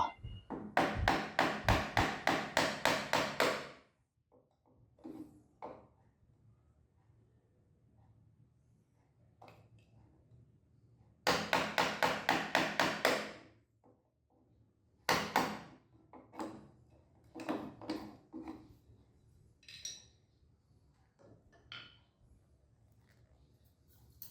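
A chisel cuts out a rotten wooden bathroom door frame, heard up close as bursts of rapid, sharp strikes, with scattered quieter knocks and scraping in the pauses between them.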